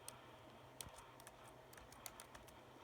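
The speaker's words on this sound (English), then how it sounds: "I'm going to type in here, Mafia" Someone types on a computer keyboard, a quiet run of scattered key clicks over a low steady background hum.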